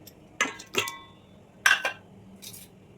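Paneer pieces for paneer tikka dropping into a pan, a few distinct clinks and knocks in two small clusters, then a softer rattle near the end, close and fairly quiet.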